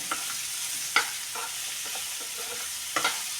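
Gooseberry pickle being mixed with chili powder, close, repeated scraping stirs and soft knocks of a spoon against the container over a faint background hiss, no talking.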